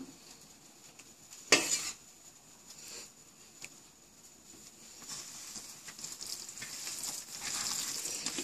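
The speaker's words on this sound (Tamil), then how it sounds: "இப்போ பருப்பு போட்டுக்கலாம்." Dal lentils hit a hot frying pan with ghee, giving a sharp burst of sizzle followed by steady crackling frying that swells louder near the end, with a few faint utensil clinks and no talking.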